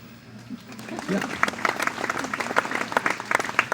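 Audience applause for a trained liberty horse's trick at a horse demonstration: a dense, steady patter of clapping that builds after about a second and continues to the end, with faint voices underneath.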